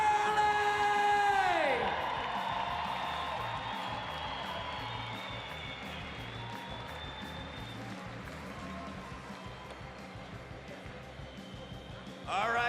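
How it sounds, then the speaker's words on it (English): A crowd at a Red Bull BMX bunny hop contest applauds and cheers for the champion, a sustained wash of clapping and whoops that starts loud and fades slightly, with a brief swell again at the end. "a big round of applause for your bunny hop champion"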